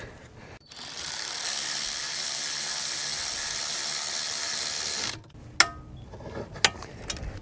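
A wrench clicks and whirs at length while bolts on a Mini Cooper S wheel hub assembly are tightened and torqued, then stops, followed by a few sharp metallic clicks and taps nearby.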